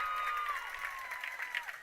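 High school football crowd in a Caruthersville Tigers game against the St. Genevieve Dragons, cheering and applauding after a touchdown. A dense, steady roar of the crowd runs throughout, with a whistle-like tone gliding down early on.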